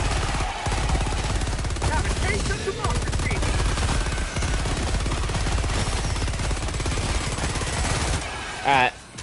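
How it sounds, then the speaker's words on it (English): A heavy machine gun emplacement in Helldivers 2 fires a long, loud, continuous stream of rapid shots with impacts and explosions mixed in, ending in a brief pause. "this is a really good HMG spot right here"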